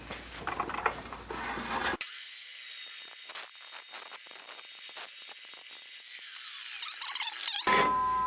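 An Evolution dry cut saw slices through 1.5-inch square 10-gauge steel tubing, with a steady, loud, high grinding whine lasting several seconds, after a quieter stretch of handling noise beforehand.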